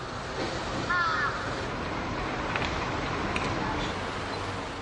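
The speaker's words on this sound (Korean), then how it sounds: "냄새를 맡고 달려드는 까마귀 떼에 시민들은 공포를 느낄 정도다." Several crows caw briefly near the start over steady, noisy street ambience, drawn to food waste scattered in a city street in Japan.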